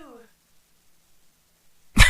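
A single sharp sneeze bursts out loudly at the very end, after a short spoken syllable and a stretch of near silence.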